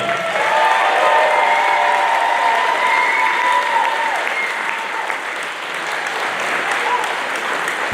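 Sustained crowd applause fills the room at the Dirty Money Cup final, a loud, steady wash of many hands clapping close by that eases slightly near the end.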